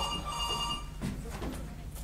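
A telephone rings indoors with a bright, high electronic trill for most of the short stretch, fairly close and steady, with faint room noise beneath.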